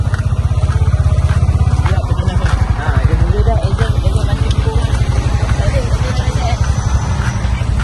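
A new motorcycle rides out toward a petrol station, its engine putting out a steady, loud low drone with a regular pulsing beat throughout, while people talk over it.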